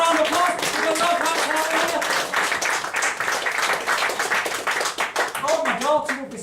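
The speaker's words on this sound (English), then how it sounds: "Everyone will give you a round of applause." An audience at a mentalism stage show claps loudly and close in a brisk, fairly even burst of applause, with voices mixed in around the clapping.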